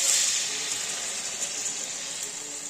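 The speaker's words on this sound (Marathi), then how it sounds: "आता यात आपण हे धुतलेले पाणी घालूया." Half a glass of rinse water is poured into a pan of stuffed eggplant frying on the stove, a steady hissing sizzle that holds for nearly three seconds and fades slightly, heard close with no talking.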